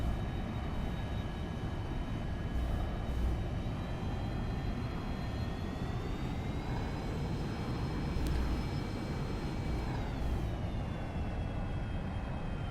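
Simulated fixed-wing aircraft engine in X-Plane 11, a loud steady drone with tonal whine that rises in pitch as the throttle opens, then dips slightly near the end, continuous and close with no talk.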